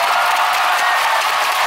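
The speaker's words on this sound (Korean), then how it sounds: "이번 세트 무조건 이겼으면 좋겠다 생각하시는 분들 박수 한번 주시겠습니까?" Audience applause fills a volleyball arena during a Korean pro match between Hyundai Capital Skywalkers and Woori Card, a dense steady wash of clapping throughout the short stretch, loud and continuous with no clear voices on top.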